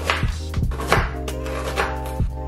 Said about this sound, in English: Then we are going to cut our ginger.